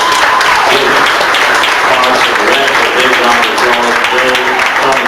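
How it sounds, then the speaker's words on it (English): Loud, dense applause from a community gathering audience for Russ Guinea, continuous clapping throughout with voices talking and calling out over it. "I think we ought to give Russ Guinea a big round of applause."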